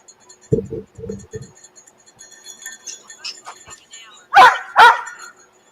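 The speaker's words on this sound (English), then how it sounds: "Do you hear that doggy, Jimmy?" A dog barks in short close bursts early on, several quick yips, followed later by two louder sharp sounds amid faint background talk, outdoors near a house during a K9 search.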